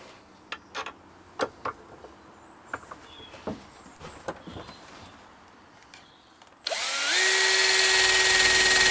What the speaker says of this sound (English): these fastenings for the screen protector, they'll also respond to a bit of rough treatment with the wire wheel